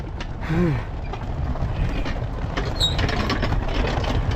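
Buddhist prayer wheels turned one after another along a row in a Nepali mountain village give a soft creaking, rattling mechanical sound under steady wind noise.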